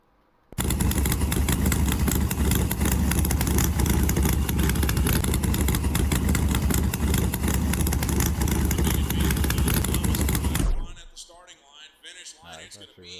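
A small block Ford V8 running in a Foxbody Mustang inside a driving video game, a loud steady engine roar holding for about ten seconds before cutting off abruptly into quieter background.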